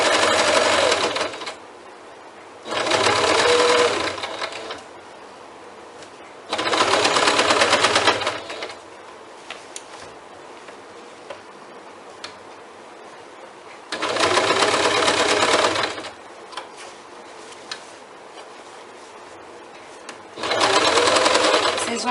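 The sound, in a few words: sewing machine stitching fabric of a bag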